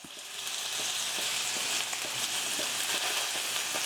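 Salmon fries in a pan for a soy-glazed dish, giving a steady, moderately loud sizzle with faint crackles and pops. It runs on its own without any talk.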